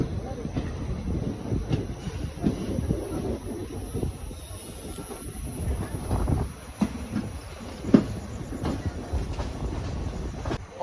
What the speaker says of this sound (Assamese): ইমান ট্ৰেইনখন কিমান দীঘল চাওক এতিয়াহে গৈছে